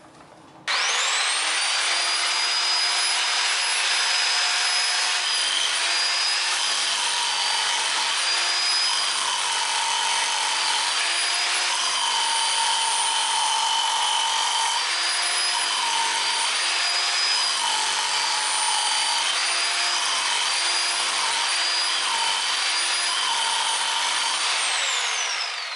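A Bauer 1641E-B 10 amp rotary hammer with a pointed tip chips at a ceramic tile mortar bed on a concrete slab, giving a loud, steady, high-pitched motor whine with a rough rattling texture that runs almost nonstop for the whole stretch.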